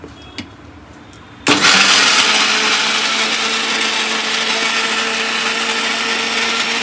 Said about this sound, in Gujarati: થોડુંક ઉપરથી પાણી નાખી દઈએ અને મિક્સર કરીએ ચાલુ.